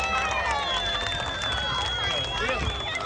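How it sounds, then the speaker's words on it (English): County fair crowd at the Sacramento pig race cheering and clapping after the race, a busy dense mix of cheers and applause with an announcer's amplified voice riding on top. "let's get a round of applause for Soapy"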